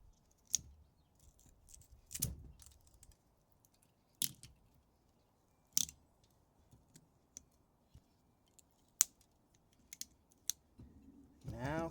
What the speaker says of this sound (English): I will cut these wires here